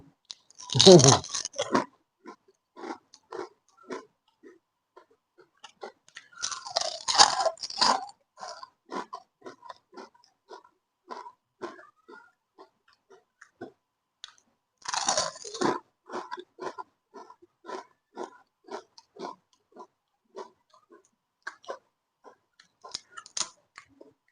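Crispy khanom dok jok rosette cookies are bitten close to the mic in three loud crunchy bursts, each followed by a long stretch of softer, rhythmic chewing in near silence.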